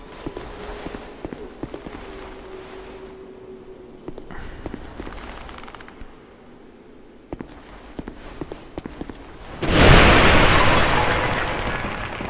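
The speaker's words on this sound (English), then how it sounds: "How are they exploding like this?" Enemies bursting apart in Dark Souls II, snowy setting with chained undead citizens: sparse thuds and pops give way to a loud, sustained blast of crackling noise near the end.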